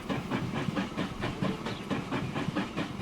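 A steam locomotive in Transport Fever 2 chuffs along in a steady, even rhythm of hissing steam beats, moderately loud and alone with no talk.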